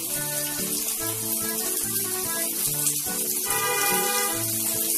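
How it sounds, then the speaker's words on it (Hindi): Onions fry in butter with cumin and mustard seeds in a pan, giving a steady, loud sizzle with a hissing wash throughout, while music plays beneath. "सबसे पहले ये प्याज हम इसमें डाल के भूनेंगे"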